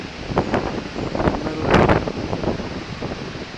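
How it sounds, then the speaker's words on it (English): Hurricane Sandy wind gusts at the Jersey Shore during a mountain bike ride, roaring and buffeting the microphone in loud surges, swelling to a peak midway, with no voices. "couple of hurricane level gusts."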